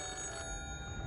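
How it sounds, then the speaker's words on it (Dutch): A telephone bell rings steadily for about a second, a sustained electronic trill with no voices around it. "Dit is het geluid van een telefoon."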